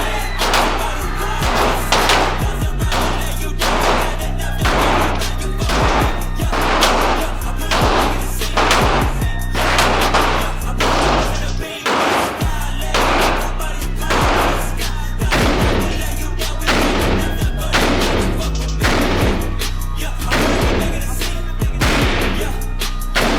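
Repeated loud gunshots ring out at a shooting range in Mexico, coming in a steady rapid series with booming echoes and a brief pause midway, with voices faintly beneath.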